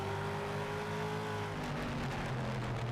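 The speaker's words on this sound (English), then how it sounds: "Those late model engines, man, I mean, they sound like they're going to blow up any given moment" Late model race car engines roaring at a Denver street-circuit grand prix, a continuous loud droning snarl with pitch shifting as cars accelerate and pass, no voices over it.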